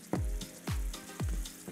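Soaked lentils are stirred in a pot, three slow, evenly spaced swishing scrapes with a low thump each, over a quiet background sizzle, with no talk.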